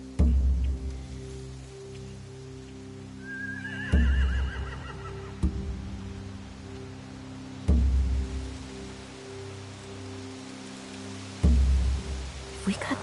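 Horses whinny once in The Walking Dead: The Final Season video game, a short rising neigh over steady rain and low ambient hum, broken by several dull thumps spaced a few seconds apart.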